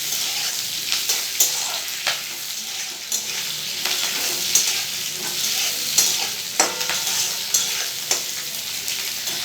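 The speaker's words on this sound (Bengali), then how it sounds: "কেটে রাখা পেঁয়াজটা দেবো, একটু নেড়ে চেড়ে নেবো।" Chopped onion is stirred in a hot pan for chilli chicken: a steady, bright sizzle with repeated scraping clicks of the spoon at an uneven, lively rhythm, close by.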